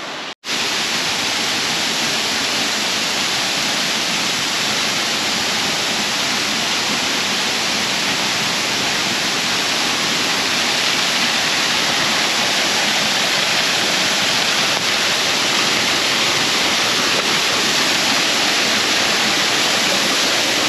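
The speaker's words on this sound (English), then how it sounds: "You can hear the waterfall now, so we are getting closer." Steady, full roar of a forest waterfall heard close and continuous for the whole stretch, a dense broadband rush with no voices or other sounds over it.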